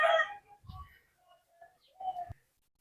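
Checkered green-banded pigeons are handled before a bath, giving a few brief low coos and soft rustles in short bursts. A voice is heard faintly nearby.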